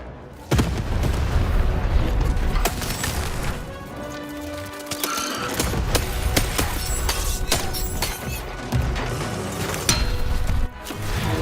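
Cannon blasts in the video game Lost in Random: several heavy booming hits and crashes at irregular intervals, loud and close, with rumbling debris between them.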